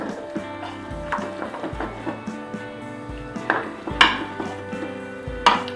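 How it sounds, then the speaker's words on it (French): Spoon stirring cream into carbonara-style pasta in a Moulinex Cookeo electric pot, scraping and clinking against the pot with soft wet churning, a few sharper metallic knocks standing out near the end. "On va mélanger."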